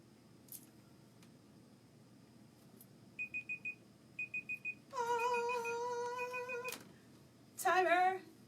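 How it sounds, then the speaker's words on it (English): A timer alarm goes off indoors: first short groups of rapid high beeps, then a longer sustained warbling electronic tone, with a further harsh burst at the end. "Timer."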